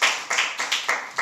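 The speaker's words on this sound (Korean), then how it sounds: "하나님께 영광의 박수 드리겠습니다" A church congregation claps in unison, six or seven sharp, evenly spaced bursts of applause close by, with no talking over them.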